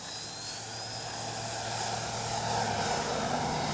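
An H-King Flybeam 2 RC plane on its maiden flight in strong wind, taking off into the wind with a steady, loud electric propeller whine and a rushing wind noise throughout.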